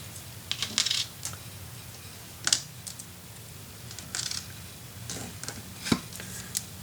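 Small magnets picked up and handled at a craft table for a shabby chic pink mini album, sparse light clicks and metallic taps scattered irregularly, close and fairly quiet.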